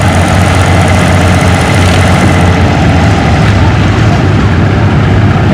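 Diesel engine of a WD-45 tractor under heavy load pulling a sled, a loud, constant, close low rumble that holds steady throughout with no break.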